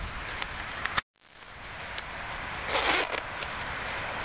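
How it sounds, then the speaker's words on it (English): A zipper on a Vietnam-era M69 flak vest dated 1969 is pulled closed in one quiet, raspy stroke with a brief gap, then a fainter scraping run follows, close and alone. "zips up."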